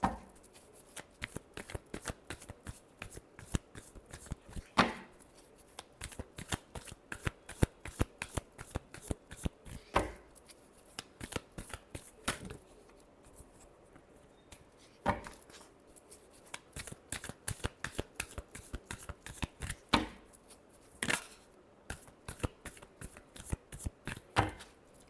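Tarot cards shuffled by hand, repeated crisp riffling bursts and soft slaps in a steady, irregular rhythm, close and fairly quiet, with no talk.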